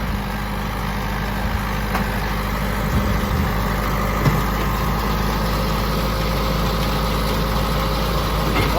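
John Deere tractor engine idling steadily at hay-making time, a loud, constant low rumble with a continuous mechanical drone that holds level throughout, no voices.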